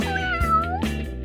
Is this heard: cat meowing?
yes